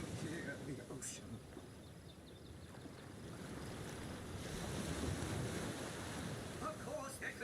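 Ocean surf in Divinity: Original Sin washes in a steady, low rumbling roar mixed with wind, with faint voices talking under the waves.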